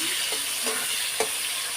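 Onions frying in hot oil until reddish-brown, the first step of a mutton kosha, giving a steady dense sizzle with a few soft stirring scrapes, close and continuous, no voices.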